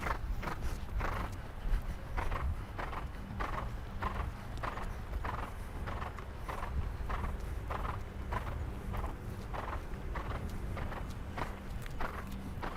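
A young horse's hooves clip-clop steadily through a riding lesson, the beats close, even and continuous over a low background rumble, with no talking.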